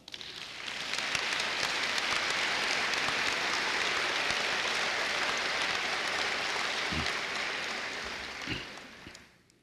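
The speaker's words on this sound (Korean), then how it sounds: "여러분 다 환영의 박수 해 주시기 바랍니다" A church mission-conference audience breaks into sustained applause welcoming a pastor to the podium, a dense even wash of clapping that swells, holds for several seconds, then tapers off.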